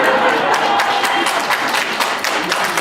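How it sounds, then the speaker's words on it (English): An audience at a mock presidential debate claps steadily for several seconds, a dense, fairly loud patter of many hands with no break. "I would like to remind the audience to please not applaud"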